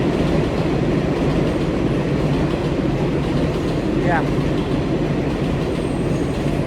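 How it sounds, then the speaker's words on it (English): A loud elevated subway train rumbles steadily past in Flushing, Queens, New York City, its continuous roar filling the air with a brief wheel squeal; a voice says a word over it. "That's how loud the trains are in New York City."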